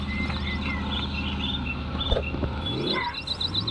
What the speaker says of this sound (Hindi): हम अपनी बाइक के साथ चलते हैं